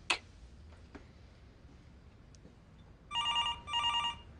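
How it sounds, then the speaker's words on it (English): A telephone rings in an otherwise quiet room after a few faint ticks and clicks, giving two close, bright electronic trilling bursts near the end. "That's my phone."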